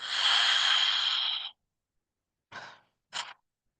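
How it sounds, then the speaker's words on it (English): One long, loud, throaty Ujjayi yoga breath, exaggerated, drawn through the back of the throat with a rushing hiss, followed after a pause by two short, sharp breaths, close and alone. "I would recommend to use the Ujjayi breath."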